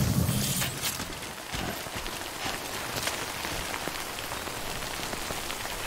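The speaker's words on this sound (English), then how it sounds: "Good thing it was raining." Steady rain falls in Death Stranding, a continuous hiss of drops hitting surfaces at moderate loudness, with a louder burst at the start and no talk.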